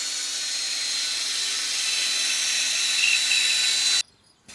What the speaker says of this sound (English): You're not shy when drilling holes, eh?